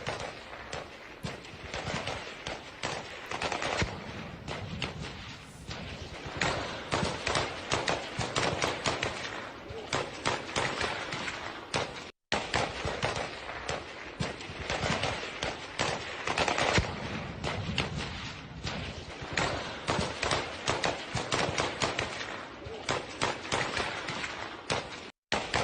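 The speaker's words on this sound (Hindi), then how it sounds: "गोलियों की ये गूंज आप सुनिए, ये टीटीपी की ओर से गोलियां बरसाई जा रही है।" Dense, rapid gunfire crackles almost without pause during a clash in Balochistan or Khyber-Pakhtunkhwa, bursts of shots overlapping for the whole stretch, with a brief gap midway.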